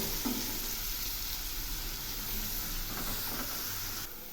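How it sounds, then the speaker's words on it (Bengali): Ground spices with coriander powder and Kashmiri chilli powder frying in oil for a boal fish curry, a loud continuous sizzle and hiss with soft stirring scrapes, close, no talking. "এখন এই মশলাগুলো খুব ভালো করে কষিয়ে নেব"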